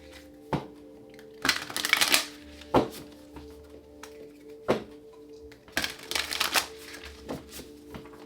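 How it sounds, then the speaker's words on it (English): Tarot cards shuffled by hand in several quick riffling bursts with soft taps and thumps between them, close and fairly quiet, with a faint steady hum underneath. "Last shuffle."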